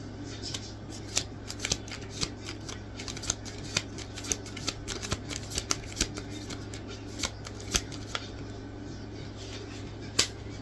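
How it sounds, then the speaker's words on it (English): Tarot cards are shuffled by hand, giving steady soft riffling with sharp crisp flicks as cards slip and fall out, close and fairly quiet over a low constant hum, with no talk. "You see all these cards falling out?"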